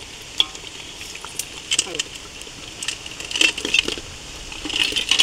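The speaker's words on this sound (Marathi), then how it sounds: "आता आपण ह्याच्यामध्ये खेकडा टाकतोय." Crab pieces dropped into curry masala frying in a pan give a steady sizzle and stirring scrapes, rising louder toward the end, with scattered clinks and short bursts of activity.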